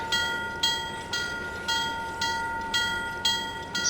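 Model train running slowly on a Pennsylvania & Berwind layout during an operating session: a steady, even clicking about twice a second over sustained humming tones, close and moderately loud, with no talking.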